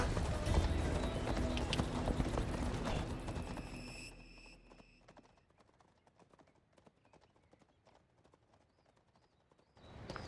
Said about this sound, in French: C'est un cheval un peu spécial. Il appartient à Hadès